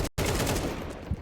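Tech-9 pistol fire in a Counter-Strike esports match: a quick run of sharp shots, loud and close, mixed with game noise and a brief dropout near the start.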